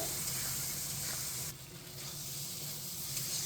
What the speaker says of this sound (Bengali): এখন আমি আলুর সাথে মশলাটাকে খুব ভালোভাবে কষিয়ে নেব